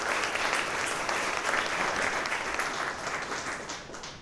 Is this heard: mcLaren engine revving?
no